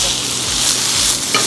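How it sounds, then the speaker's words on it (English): Mushrooms and onions sizzle and get stirred in a sauté pan on a Proline kitchen range, a steady, loud, close frying hiss with a brief scrape near the end. "That sizzle right there,"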